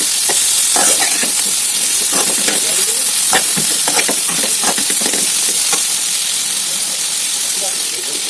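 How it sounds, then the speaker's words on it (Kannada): Spices fry loudly in a pan, a constant close sizzle and hiss broken by repeated scraping strokes and clinks of stirring, with a voice faintly present underneath. "ಎಲ್ಲ ಹಾಕೊಂಡು ಸ್ವಲ್ಪ ಹಸಿ ವಾಸನೆ ಹೋಗ್ತಂತ ಹೊಡಿಬೇಕು."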